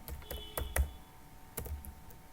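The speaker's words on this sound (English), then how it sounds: "Now I will type the same name and we will check." Several keystrokes on a computer keyboard as a name is typed, with short clicks in two quick clusters a moment apart, close and fairly quiet, with no talking.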